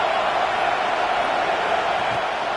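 A college football video game plays out Ole Miss against Texas A&M on a big third down. The stadium crowd roars as a dense, steady wash of noise with no distinct peaks, and there is no talking.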